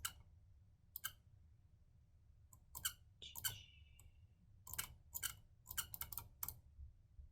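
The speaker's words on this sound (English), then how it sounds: "Sorry, my mouse is squeaky." A squeaky computer mouse used during photo editing, heard as scattered faint clicks and small squeaks spread irregularly across a quiet room, with one brief higher squeal in the middle.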